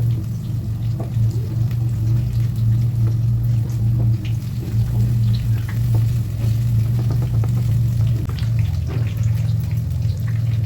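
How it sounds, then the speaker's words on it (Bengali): Bok ful (sesbania flower) fritters coated in gram-flour batter fry in hot oil, giving a steady, close, dense sizzle with small pops and crackles throughout, and no voices. "তো এরপর আমি উল্টে পাল্টে একে একে সবগুলো ভেজে নেব।"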